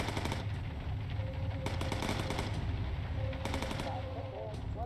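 Bursts of machine gun fire from bomber gunners in the aircraft combat game Bomber Crew, rattling rapidly and steadily over a constant drone of engines, with short louder volleys standing out.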